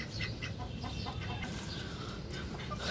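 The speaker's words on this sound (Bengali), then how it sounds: "এইখানেও আমার মুরগি আছে" Domestic chickens clucking on a rooftop farm with ducks nearby, several birds calling in short bursts close by over a steady background hum.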